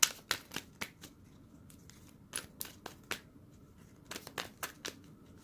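Tarot cards being shuffled by hand, a series of quick, crisp riffling bursts with short pauses between them, close and fairly quiet, with no talking.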